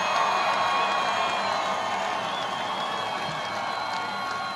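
A large crowd at a Trump campaign rally in Virginia cheers and applauds in a steady, dense roar that holds at full loudness throughout, with whoops rising from the mass of noise.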